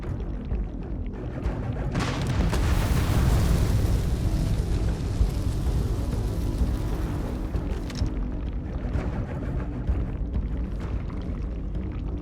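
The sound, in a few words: grenade explosion in Starfield video game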